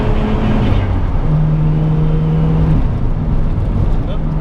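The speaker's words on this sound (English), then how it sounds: "There's another turbo." A turbocharged sports car engine pulls at steady revs with a smooth, loud drone and a faint whirring turbo note on top, heard from inside the car.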